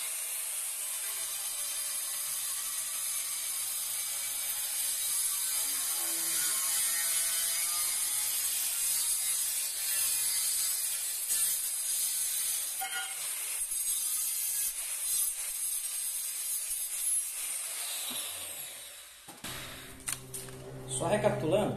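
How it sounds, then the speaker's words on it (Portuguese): A marble saw cutting porcelain tile along taped lines with a slight bevel, a loud continuous high-pitched grinding whine held for many seconds, then cutting off near the end as the blade stops. "Eu cortei por cima da fita, com a serra mármore levemente chanfrada"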